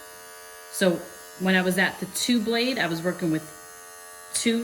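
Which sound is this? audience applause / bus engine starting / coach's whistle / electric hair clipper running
electric hair clipper running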